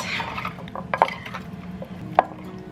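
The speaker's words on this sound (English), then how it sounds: "I'm gonna give this a mix." Peaches and cornstarch are stirred in a pot with a spoon, giving soft wet squishing and two sharp clinks of the utensil against the metal side.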